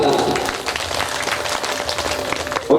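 Hindi storytelling gathering where the audience claps along, a steady burst of applause filling the short moment beneath a speaking voice.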